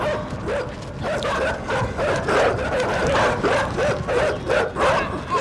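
Several dogs bark and yip in a rapid, continuous volley in the game INSIDE, loud and close, with overlapping yelps and whimpers throughout.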